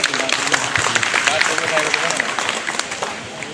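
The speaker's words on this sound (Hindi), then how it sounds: "तालियां हो जाएं।" Audience applause at a Malihabad pigeon tournament prize distribution ceremony, a busy wash of clapping mixed with crowd voices and talk, steady and fairly loud throughout.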